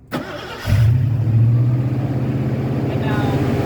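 A 1986 Ford Mustang with an electronic fuel pump cranks briefly, then fires up into a loud, close, rumbling idle that holds steady with slight revving.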